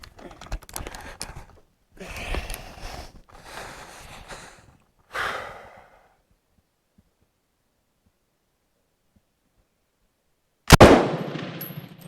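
A Bren Mk2 light machine gun fires a rapid burst of shots, followed by a few shorter bursts. After several seconds of silence, one sharp loud report closes the sequence.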